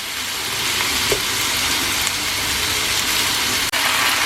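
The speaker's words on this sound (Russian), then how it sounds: "Котлеты я обжариваю, не закрывая крышкой." Meat cutlets fry in a large 32 cm skillet with no lid, giving a steady, even sizzle throughout, with a faint clink near the end and no talking.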